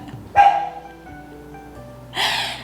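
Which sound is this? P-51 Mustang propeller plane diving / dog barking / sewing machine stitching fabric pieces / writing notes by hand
dog barking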